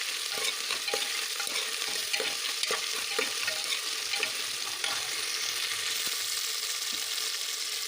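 Chillies and curry leaves sizzling in hot oil while being stirred, a steady, moderately loud frying hiss with small crackles and spoon scrapes throughout, no voices.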